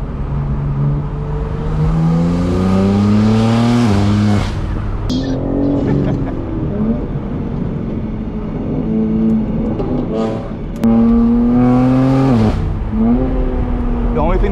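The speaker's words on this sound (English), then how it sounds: "we're just holding in high RPM. We just want to hear the sound" A Pontiac G8 engine is held at high RPM on a back road, a loud, sustained roar that swells and dips through repeated revs, with people talking over it.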